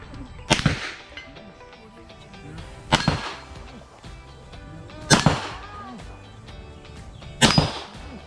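Pistol shots from a Tanfoglio and a Glock 17 Gen4 at an outdoor firing range, four sharp, loud reports spaced about two seconds apart over a low background.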